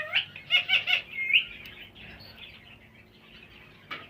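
Ring-necked parrot breeding pairs give a quick cluster of shrill chirps up front, then fall mostly quiet apart from one brief call at the end.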